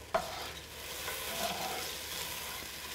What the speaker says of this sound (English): I'm going to deglaze this pan